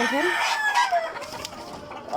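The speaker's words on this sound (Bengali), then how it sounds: "ওই দেখেন কতগুলা মুরগা জমাট বাঁধা রয়েছে এক লগে ডিম পাড়ার জন্য।" Egyptian Fayoumi hens cluck and squawk together around a laying spot on a farm, a close, busy run of overlapping calls with a faint crow-like note mixed in.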